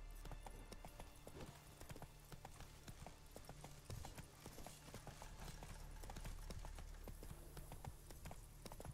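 In The Witcher, a horse gallops at a fast, dense drumming of hooves, continuous and close though low in level, with a soft background hum throughout.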